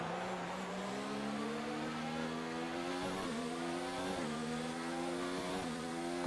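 An F1 race car engine in the F1 2019 game at the Hungarian Grand Prix drones at high revs, the pitch rising steadily with brief dips at gear changes, continuous and alone.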